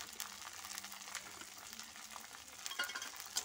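Ground spice masala with cumin powder frying and being stirred in a pan for chicken kosha, a soft steady sizzle with scraping stir strokes, faint and close, with no talking.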